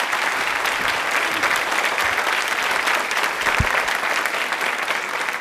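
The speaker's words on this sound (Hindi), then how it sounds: "कृति जी के लिए तालियां जोरों से बजाइए।" Studio audience applause for a women's engineering college quiz contestant in a Jaipur television studio, a steady dense wash of clapping from many hands at constant loudness, with no talking over it.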